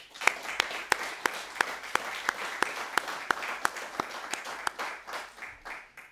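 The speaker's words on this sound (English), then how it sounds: "Let's give them all a hand of applause." Conference audience applauding steadily for about six seconds, dense even clapping with a few sharper near claps standing out, fading slightly toward the end, no talk over it.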